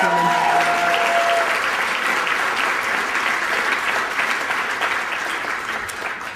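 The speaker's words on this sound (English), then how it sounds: "It always gets applause." An audience at the Aspen Environment Forum applauds a speech in a broad, continuous burst of clapping from many hands, loud at first and slowly easing over about six seconds.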